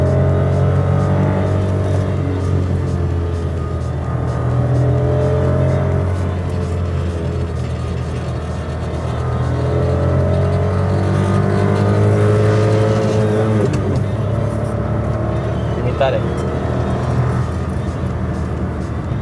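A Daewoo Matiz engine drones steadily and loudly, rising in pitch as it revs hard against the rev limiter, holding near its limit with a brief dip before climbing again.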